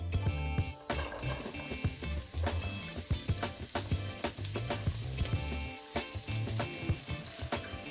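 Chopped onions and carrot sizzle and crackle steadily in hot oil in a pan, with occasional stirring clatter and scraping throughout.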